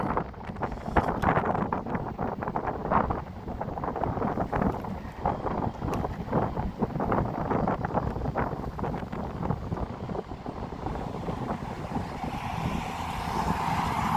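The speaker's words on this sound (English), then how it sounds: "going against the wind here, so." Steady, heavy wind buffets the microphone of a rider on a Hiboy S2 Pro electric scooter, with a constant low roar and rumbling gusts throughout, no voices.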